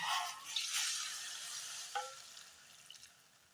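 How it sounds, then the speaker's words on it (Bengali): Hot water poured into an egg and poppy seed curry in a pan sets off a soft hissing sizzle that fades gradually, with a light stirring clink, quiet and close with no voices. "এবার আমি এতে গরম জল দিয়ে দিচ্ছি"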